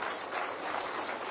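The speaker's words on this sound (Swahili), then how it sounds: "Tuwapigie makofi hawa watu jamani." Crowd applause at a school feeding programme launch in Nairobi, dense broadband clapping that holds steady and fairly loud through the short span, with no speech over it.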